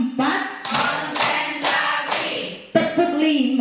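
A group of people clap together in quick bursts of four claps, with short pauses between bursts and a voice briefly speaking near the end.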